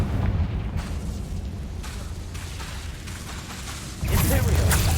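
Confringo blasting spell explosions in Hogwarts Legacy: a steady, low, rumbling roar of booms that swells into a louder, harsher burst near the end, with a voice speaking faintly over the blasts.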